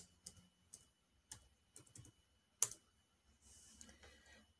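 Scattered keystrokes on a computer keyboard while entering a search term in craft design software, quiet clicks in a short irregular burst with pauses between them.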